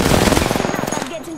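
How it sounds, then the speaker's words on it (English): Loud, rapid automatic video-game gunfire rattles close by in a fast rhythmic burst that tapers off after about a second. "I'm getting shot at"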